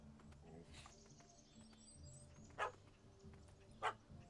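A dog barks at a cat up a tree in The Witcher 3, two sharp, fairly close barks standing out from quiet background game ambience, with faint yips earlier.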